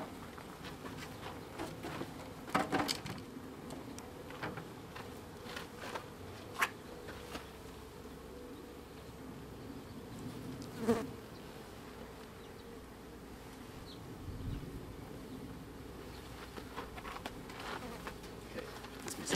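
Honey bees buzzing around an opened hive during an inspection after comb was scraped off, a dense, continuous hum of many insects nearby with occasional louder passes and faint scraping.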